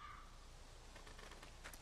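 Crows caw in The Walking Dead video game by Telltale Games on PC, harsh repeated calls sounding at moderate distance over a steady low ambient rumble, with no speech.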